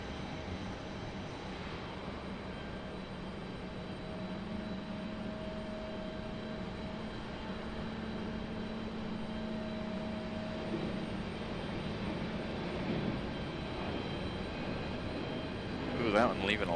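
Airbus A321neo airliner departing Raleigh-Durham for Salt Lake City, a distant steady jet hum with faint tonal whine that builds slightly, under light background noise.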